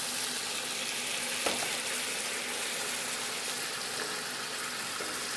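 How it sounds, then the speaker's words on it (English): Wine hitting a hot pan to deglaze a browned beef pot roast gives a steady, loud sizzle and hiss that holds evenly throughout, with a couple of faint clinks partway through. "So I'm going to add some wine to this so it deglazes."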